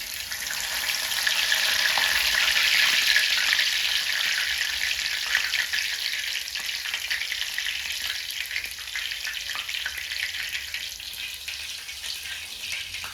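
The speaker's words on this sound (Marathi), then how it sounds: "पण मिरच्या पण तळून घेऊ त्यातच आपल्याला थोडीशी कोथिंबीर पण टाकायची" Green chillies and coriander leaves frying in hot oil for a fasting-style chivda make a loud, dense, close sizzle that swells early and then settles into a steady crackle, with no voices.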